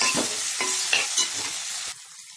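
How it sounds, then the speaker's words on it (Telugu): Ginger and garlic paste frying in a pan with onions: a close, bright sizzle broken by several sharp scraping stirs, then the hiss cuts off abruptly near the end, with no talking. "చూడండి అల్లం వెల్లుల్లి చక్కగా వేయించేయండి."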